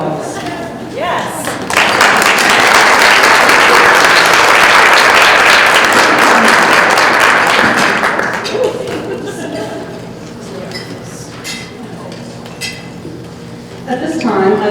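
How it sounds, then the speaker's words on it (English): Warm round of applause from a luncheon audience welcoming new members, a sustained mass of clapping for several seconds that fades into scattered clinks of dishes, cutlery and murmuring voices. "please stand so we can recognize you and give you a warm BFF round of applause"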